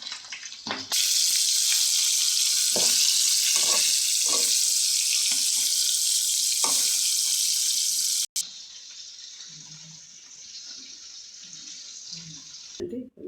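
Fish sizzling as it fries in hot oil for a fish curry, a loud steady hiss that stays strong for most of the stretch, drops abruptly, then carries on more softly. A few soft knocks sound beneath it.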